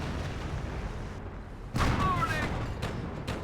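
Artillery fire in the strategy game Company of Heroes during a tournament match: a rumbling bombardment that erupts into a loud, sharp blast about halfway through, followed by sustained booming and a few fainter thumps.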